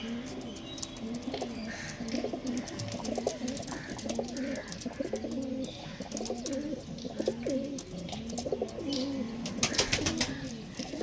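Andhra-line pigeons coo continuously up close, overlapping throaty rolling calls in a dense rhythmic chorus, with occasional faint chirps and rustles.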